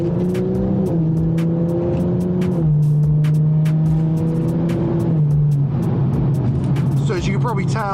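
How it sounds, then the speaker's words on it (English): A stage 2 tuned 400hp BMW M235i accelerates on a main road, its engine loud and close from inside the cabin, rising in pitch through several gear changes with sharp crackles, while someone talks over it. "Let's see what this power is all about."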